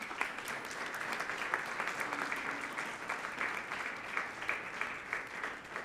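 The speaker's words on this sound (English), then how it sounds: "I invite you to give them a round of applause." A crowd claps steadily for several seconds, a dense patter of applause at moderate distance with no voices over it.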